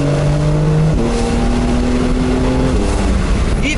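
A Porsche 911 of the 992 generation accelerates hard with a loud, close engine note that climbs, drops at a quick gear change, then climbs again, with a possible second shift near the end.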